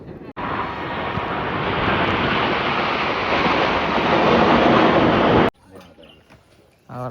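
Loud roaring jet airplane passing overhead, a broad steady rumble that holds for about five seconds then cuts off abruptly, followed by faint voices and background noise.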